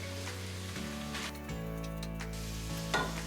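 Tomato paste and vegetables cooking in a pot for chili, a soft continuous sizzle over a low hum and shifting background tones, quiet and close, with no talking.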